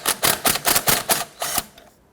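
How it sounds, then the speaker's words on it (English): An impact driver rattles in a rapid burst of about eight hammering blows as it spins off the inner tie rod jam nut on a 1992-1996 Toyota Camry, loud and close, then stops. "Now if you have an impact driver, you can go ahead and zip this off."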